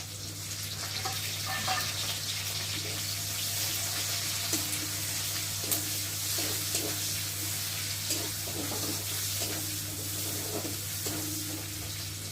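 Chopped onion and green chilies fry in oil in a pan, giving a constant soft sizzle under a steady hum, with intermittent stirring scrapes and no speech.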